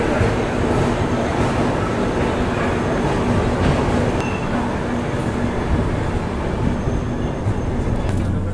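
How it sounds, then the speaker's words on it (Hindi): Passenger train pulling out of Ajmer Junction station, heard from inside a coach as a loud, steady rumble with faint wheel clatter and a continuous hum throughout. "लेकिन अब फाइनली अब हम अजमेर जंक्शन से निकलते हुए"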